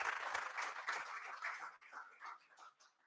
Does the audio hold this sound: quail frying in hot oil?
no